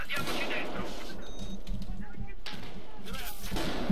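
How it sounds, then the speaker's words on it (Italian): Gunfire rattles in the video game Battlefield 4, repeated bursts of shots and blasts close and distant, under players talking over voice chat. "Ok, uno mi ha sparato."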